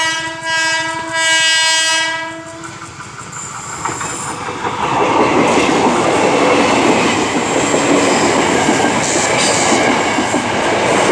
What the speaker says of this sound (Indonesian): Kereta, kereta, kereta.